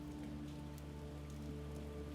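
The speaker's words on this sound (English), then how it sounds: "over the drum of the rain on the roof" Rain drumming steadily on a roof, a dense even wash of patter that holds at a constant level with no breaks and no voices.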